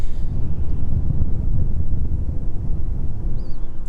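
Strong wind gusts across an open airfield on a very cold evening roar steadily into the microphone, a dense low rumble that swells and eases without pause for the whole stretch, with no other distinct sounds standing out.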